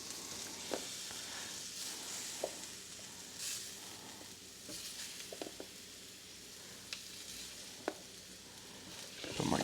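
Mushrooms hit a hot pan next to steak and sizzle, a soft steady hiss broken by scattered clicks and pops, fairly quiet and close, with a louder surge at the very end.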